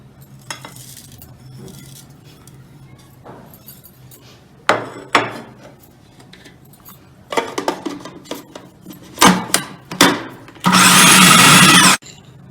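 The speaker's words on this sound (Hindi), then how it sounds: "अब हमने इसको चॉपर में चॉप कर लेना है।" An electric chopper grinds torn roti with flaxseed and fennel, first with scattered clunks and rattles, then a loud, steady whirring burst of about a second near the end, close by.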